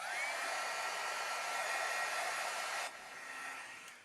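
A hair dryer blows steadily on wet watercolor paint on a card background, a loud continuous whir that cuts to a softer setting near the end.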